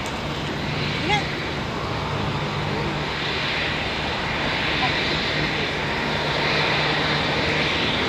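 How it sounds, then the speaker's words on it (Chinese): Airplane flying overhead above a city street, a continuous low engine drone spread across the whole stretch, with people talking nearby over it. "飞机来了。"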